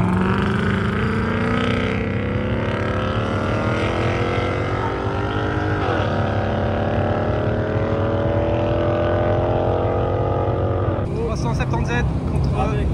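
Drag race cars of about 2,200 hp accelerate at a Dubai strip, their engines rising in pitch together in long, loud sweeps. The roar stays heavy throughout and a harsher burst breaks in near the end.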